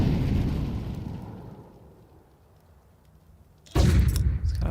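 A grenade explosion in a Counter-Strike match: a loud burst at the start decays into near silence, then a second sharp blast erupts near the end, close and heavy, with no talk.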